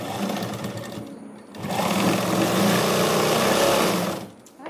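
A sewing machine stitches thread in a fast, even mechanical whir, close and steady, running briefly, pausing for about half a second and then resuming for a longer stretch before stopping.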